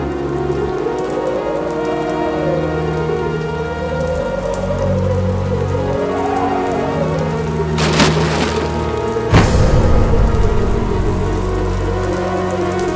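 Heavy rainstorm in an animated cartoon: a dense, loud wash of rain pouring on surfaces with wobbling music underneath, then two sharp cracking bursts like splintering wood near the end.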